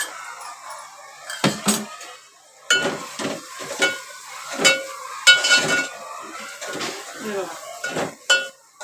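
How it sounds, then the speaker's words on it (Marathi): Gram flour (besan) is stirred and roasted in plenty of oil for a squid masala, with a spoon scraping and clinking against the pan in repeated strokes over a steady sizzle while someone talks. "बेसन चांगलं त्याला परतून घ्यायचं भरपूर घालायचं एकदम तेलामध्ये"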